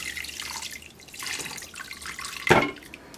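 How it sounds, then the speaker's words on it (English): Warm water pours from a tap into a bath during a bath bomb demonstration, a close, splashing trickle with small drips, rising to a brief louder gush near the end. "put some even warmer water here."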